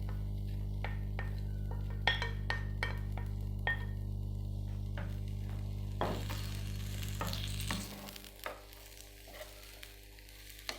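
Two chopped potatoes and an onion fry in oil, a steady close sizzle with sharp clinks and scrapes of stirring, over a low hum that drops away near the end.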